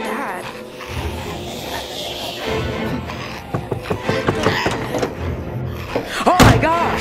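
Door slamming and banging in a zombie apocalypse video game, a string of sharp thuds and knocks growing heavier toward the end, mixed under background sound and a voice.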